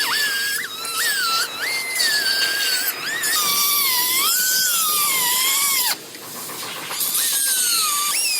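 A cutoff wheel grinding through a Jeep frame cross member, a loud high-pitched whine that rises and falls in pitch as the disc bites and slows, running almost continuously with a brief dip.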